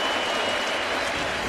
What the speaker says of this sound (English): That's why you heard the crowd let out a cheer.